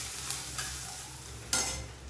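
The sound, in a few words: chopped onions frying in oil with cumin seeds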